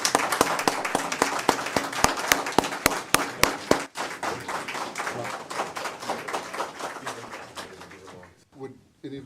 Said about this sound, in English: One more time for another round of applause.